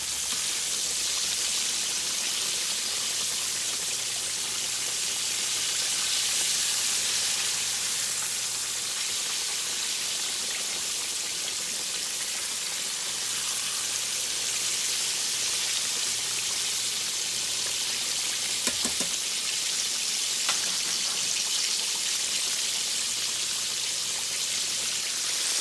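Pork chops frying in hot oil give a steady, bright sizzle that carries through the whole stretch, with a faint clatter as they are flipped partway through and no voices.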